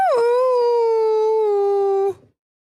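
A single long, clear dog howl, close and loud, holding a steady pitch for about two seconds before cutting off abruptly.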